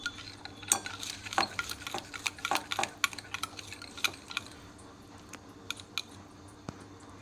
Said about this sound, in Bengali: ডিম, চিনি আর ঘিটা আমি খুব ভালো করে ফেটিয়ে নেব